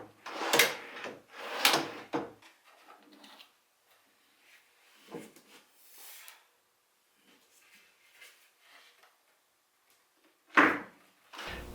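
A wooden drawer for lathe tool storage pulled out along its slides in short stages, with a few loud sliding bursts at the start and end and quieter scrapes and knocks in between.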